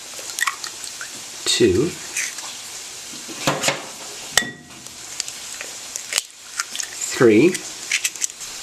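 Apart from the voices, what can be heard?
eggs being cracked into a bowl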